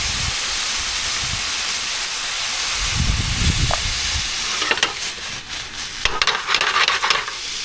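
Striper fish fillets sizzle loudly in a frying pan with a touch of olive oil and salt, a constant hissing fry punctuated by crackling pops and spatters as pieces settle in.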